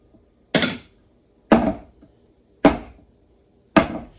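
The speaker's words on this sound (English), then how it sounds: "just plop your pan down 3 times on a hard surface" A pan of five-ingredient banana bread batter is plopped down on a hard surface four times, each a sharp, close, solid thud with a short rattle, spaced about a second apart with quiet between.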